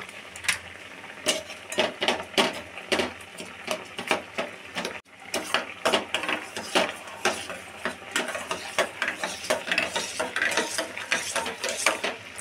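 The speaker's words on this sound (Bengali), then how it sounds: "মা জলের মধ্যে গুঁড়ো দুধটা হালকা গরম জলে গুঁড়ো দুধ গুলে নিচ্ছে" A spoon clinks and scrapes steadily against a bowl as milk powder is stirred into lukewarm water, rapid close metallic taps in a continuous rhythm with a brief pause midway, no talking.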